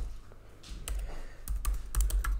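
Someone types code on a computer keyboard, producing a quick run of close, crisp key clicks over a low background hum. Nobody speaks.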